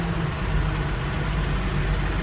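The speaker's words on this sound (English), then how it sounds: "so there's a car going by" Car passing outside near a construction area, a steady low engine rumble and road noise, moderately distant and fairly faint, continuous with no talk.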